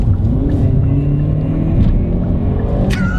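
A 2018 Hyundai i30N accelerating in third gear, heard as a steady, loud engine drone with rising tones from inside the car.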